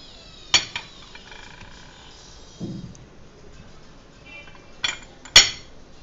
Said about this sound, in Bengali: এখন আমি মাংসটা ম্যারিনেট করছি।